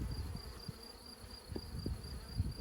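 Honeybees buzz around an open hive as frames are handled, a steady close drone with soft thumps and handling noises beneath.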